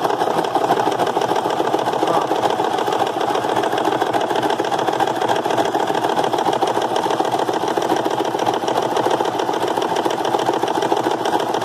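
A sewing machine runs steadily, sewing a buttonhole-style stitch, its fast even mechanical chatter continuous and close throughout with no talk.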